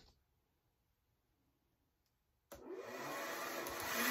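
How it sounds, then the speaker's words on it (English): A hair dryer set on low switches on after a quiet stretch and blows steadily, curing TotalBoat polyester fairing compound; the close whooshing hum continues alone to the end. "I'm going to give this 10 minutes with the dryer on low."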